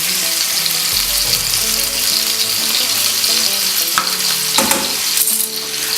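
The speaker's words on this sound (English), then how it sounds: "I'm going to toss in about 1/4 of a very finely diced onion and let that sweat through a little bit." Finely diced onion sweats in a pan alongside chicken breast, giving a loud, close, continuous sizzle with a few brief scraping stirs near the end and no talking.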